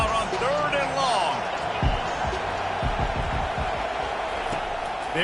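Football stadium crowd roaring steadily on a third-and-long defensive down, a dense sustained wall of cheering with scattered claps and thumps, while a commentator talks over it.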